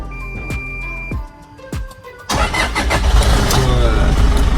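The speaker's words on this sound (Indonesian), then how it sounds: "Nah tuh, dia nyalain di sini. Coba kita cold start ya." Cold start of a 2015 Toyota Fortuner G VNT diesel: a few starter cranks, then the engine catches into a loud, rough, steady idle, close by.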